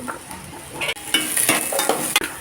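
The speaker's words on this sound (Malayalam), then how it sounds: "ചെറുതായിട്ട് ഇളക്കി കൊടുക്കാം" Chopped vegetables such as long beans and carrot frying in oil for an Onam sadya dish are stirred in a pan, with a close sizzle, spoon scrapes and irregular clattering strokes.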